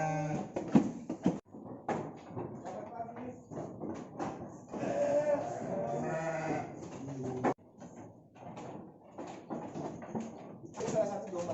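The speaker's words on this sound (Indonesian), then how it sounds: "Ini salah satu domba tangkas." A domba tangkas fighting sheep with horns bleats in several broken, wavering calls, mixed with people talking nearby in a farm setting.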